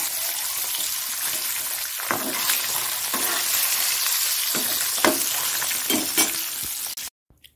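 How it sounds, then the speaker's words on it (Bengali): Dried red chillies and bay leaves frying in hot oil in a home kitchen, a loud continuous close sizzle with a few sharp crackles and stirring scrapes, cutting off abruptly at the end; no voices. "দেখো এখানে শুকনো লঙ্কা আর তেজপাতা দিয়ে দিচ্ছি"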